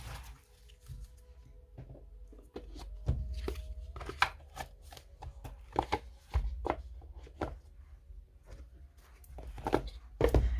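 Tarot cards being shuffled, handled and drawn from a deck during a card reading: a string of short crisp slaps and flicks, close and moderately loud, alone with no talk.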